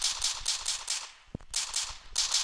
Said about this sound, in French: On dirait trop les bruits de quand tu tires avec Airsoft.